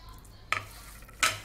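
Onion and green chilli being stirred into a Maggi noodle batter for pakoras, with two short, close scraping stirs separated by a quiet pause.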